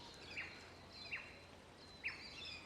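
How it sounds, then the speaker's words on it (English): Birds calling from tree branches: three short, high, faint chirps spaced about a second apart over quiet outdoor background, with no talk. "when you have the birds making noises on the branches"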